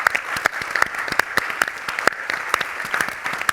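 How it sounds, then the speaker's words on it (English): Audience applause at a climate-action talk during a women's pavilion inauguration, a steady crowd of clapping with sharp individual claps popping through the dense patter, moderately loud and continuous throughout. "Let's give them a round of applause."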